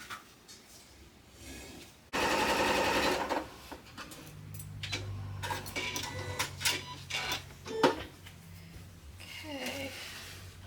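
A sewing machine stitches quilt pieces in short bursts of whirring and clicking, with one louder sustained run and pauses between, a voice heard faintly nearby.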